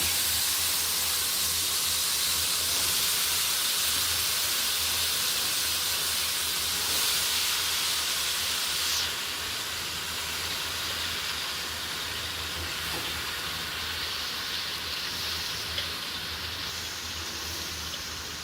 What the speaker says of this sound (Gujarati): નાખી દીધું શાક.